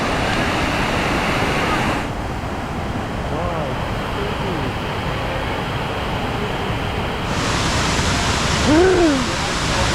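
Flowing water at a river swimming spot near Luang Prabang, Laos, makes a steady, full rushing roar, with brief faint voices near the end.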